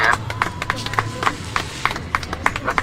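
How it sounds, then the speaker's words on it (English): Sparse hand claps from a rally crowd gathered seeking justice for Dorian Murrell, with scattered claps repeating irregularly across the moment amid a low murmur, fairly distant and moderate in level. "give Brother CG a round of applause here."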